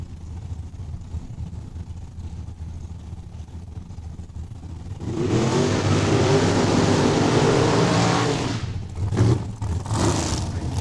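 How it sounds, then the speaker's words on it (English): Two dragsters do side-by-side burnouts at a drag strip in Saskatoon. Engines roar in loudly after a quiet start, hold a sustained raw blast for several seconds, then break into revving bursts. "All right, side-by-side burnouts. We got dragster with dragster."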